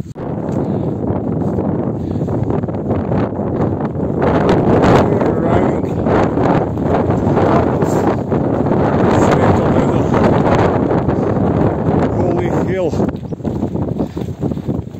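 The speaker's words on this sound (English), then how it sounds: "The wind is almost as strong as on Vaganski." Strong mountain wind buffeting the microphone on a hiking trail in Croatia, a loud continuous roar with gusty swells, and someone speaking briefly amid it.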